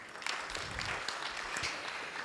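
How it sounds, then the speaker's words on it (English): Brief applause for pharmacists at a health ministry gathering, a short burst of dense clapping from a group, moderately loud and even throughout. "We can clap for them."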